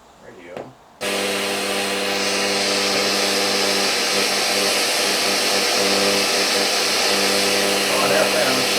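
A Toshiba RT-S85T cassette boombox is switched over to FM radio; after a brief click comes a steady, constant broadcast with a humming, tonal band of sound that carries on evenly to the end.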